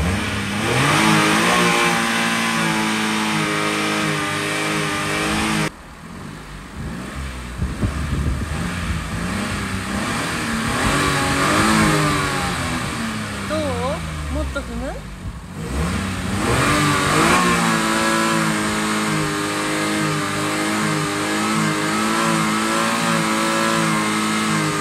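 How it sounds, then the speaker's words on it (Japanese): A car engine revs hard and repeatedly while the car sits stuck, making a loud, sustained roar with rising and falling pitch sweeps and a brief dip near six seconds. No one speaks. "今日はもう思う存分吹かしてストレス発散しちゃうからね。"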